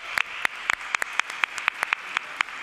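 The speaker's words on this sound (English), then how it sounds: "Let's give one more big round of applause." Steady applause from a church audience with sharp, regular claps at a quick even beat, close by and without talk.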